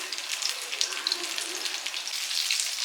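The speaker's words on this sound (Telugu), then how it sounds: "ఇలా చేపని ప్రెస్ చేస్తూ ఉంటే లోపల కూడా ఆయిల్ ఫిల్ చేసుకొని చేప బాగా ఫ్రై అవుతుందండి" A whole fish frying in hot oil while being pressed in the pan gives a steady, close hissing sizzle with fine crackling pops throughout.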